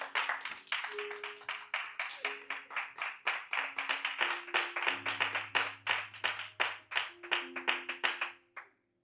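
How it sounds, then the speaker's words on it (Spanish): A church congregation claps hard together in sustained, fairly even applause, close and loud, lasting several seconds before cutting off sharply at the end, with a low hum underneath. "Dale un aplauso fuerte al Padre."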